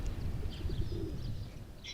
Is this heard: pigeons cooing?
yes